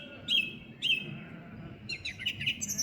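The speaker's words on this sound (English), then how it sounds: "So there we have it, the lovely song thrush." Song thrush sings outdoors on a morning walk, clear bright phrases repeated in short bursts, first two separate notes then a quicker run of chirps, fairly close and alone.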